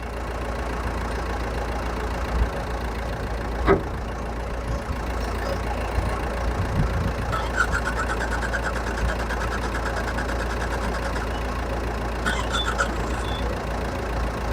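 A car offered for sale idles with a steady, low engine rumble that holds at an even level throughout, with a few faint clicks and knocks on top.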